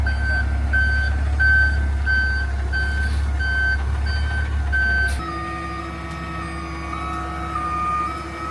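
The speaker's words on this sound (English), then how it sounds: "The roll-up driver showed up, so we're gonna get this swapped out now" A roll-off dumpster truck reversing, its backup alarm beeping in an even, repeated rhythm over a loud, low diesel engine rumble that drops off partway through as the beeping carries on.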